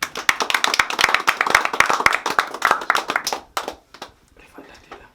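A small audience claps at a celebration, a dense flurry of close, sharp hand claps that thins out into a few scattered claps and then stops.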